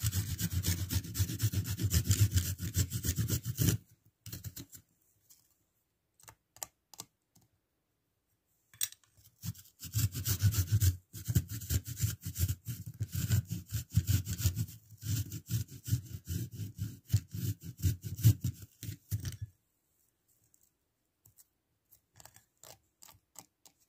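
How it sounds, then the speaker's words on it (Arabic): Two garlic cloves rub against a fine grater in rapid, rasping strokes, close and steady in two long bursts separated by quiet pauses, with no talking. "غناخذ هاد الحكاكه الرقيقه اللي كيكونوا الاعيون ديالها صغار"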